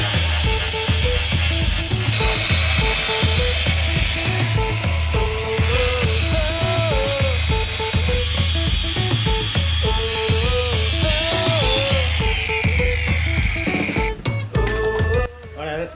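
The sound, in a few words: flat disc grinding welding splatter off a 1965 FJ45 axle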